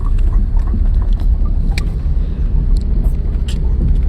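A car being driven at speed, with a loud continuous engine and road rumble plus wind buffeting throughout, close to the microphone, with brief sharper knocks and rattles on top.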